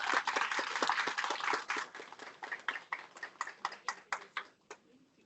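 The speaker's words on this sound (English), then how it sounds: "Let's welcome him with a big round of applause" Audience applause welcoming a speaker at a college seminar: a dense burst of clapping from a crowd that thins over a few seconds into scattered single claps before fading out.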